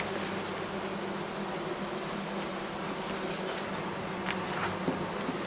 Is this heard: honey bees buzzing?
yes